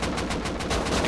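Rapid bursts of AK assault rifle fire in the game Rust, a steady loud stream of shots with no pauses.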